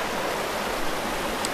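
Steady rushing water from a small waterfall, a continuous broadband hiss with no pauses, heard close and alone.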